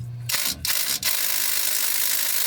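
Ratchet or wrench working bolts off a RAM 1500 differential cover, a few short metallic rasping strokes close by, followed by a steady scraping hiss.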